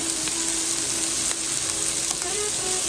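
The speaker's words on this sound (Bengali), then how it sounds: "এই যে সুন্দর মতো ভাজা হয়ে যাচ্ছে" Carrots, raisins and boiled white chickpeas fry with a little salt in hot oil, giving a loud, steady, unbroken sizzle up close with a few faint stirring taps and no voices.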